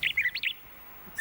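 Bird call from an animated Aladdin film: a quick run of four bright chirping tweets, followed by a short pause and a fresh chirp at the very end.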